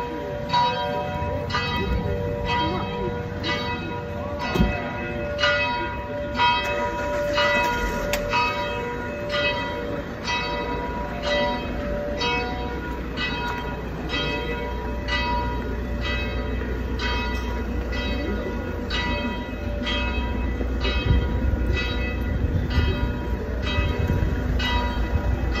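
Church bells of the 15th-century parish church of St. Nicholas in Cavtat, Croatia, ringing loudly in a steady, rapid repeating peal that continues throughout, with faint background rumble beneath.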